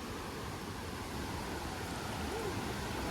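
Steady broadband rush of water from Phlio Waterfall in Chanthaburi, heard faint and distant as a continuous hiss with no other distinct sounds.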